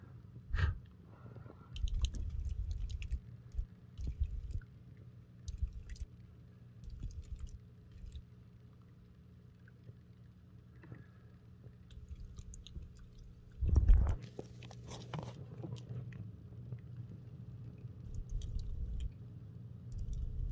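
Faint, irregular clicking and crackling pops, like tiny popcorn, from Camponotus discolor carpenter ants clacking their mandibles, scattered over a low rumbling background, with a louder burst midway.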